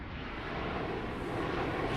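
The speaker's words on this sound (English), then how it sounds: "huge plane going past" A large airplane passes overhead near a flight path, a broad, loud roaring rush of engine noise that builds slightly over a couple of seconds with no talk.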